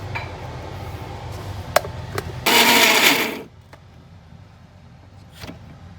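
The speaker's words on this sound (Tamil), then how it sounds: "சிக்கனை மிக்சியில் போட்டு இதை ஃபைன் பேஸ்ட்டாக அரைச்சிக்க வேண்டியதான்." A mixer grinder whirs loudly for about a second as boiled chicken is ground into fine paste, with quieter kitchen clatter before and after the burst.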